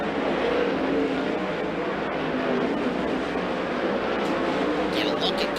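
A 410 sprint race car engine roars continuously around the track, a dense, loud, sustained drone under a race announcer's voice.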